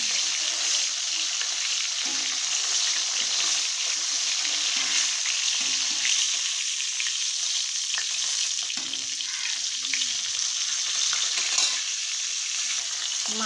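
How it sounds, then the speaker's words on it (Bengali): A hilsa fish head fries in a pan of hot oil, making a steady, even sizzle that carries on close and unbroken. "মাছের মাথাটা আমার ভাজা হয়ে গেছে"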